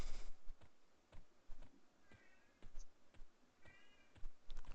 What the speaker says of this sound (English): Anybody hear the cat outside my door?